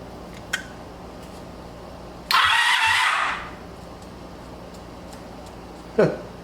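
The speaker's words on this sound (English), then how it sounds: "Spun over and stopped." An abandoned 1984 Honda Saber VF700S motorcycle engine cranks over in a short, loud burst of about a second, then stops and falls quiet, with a few clicks and knocks around it.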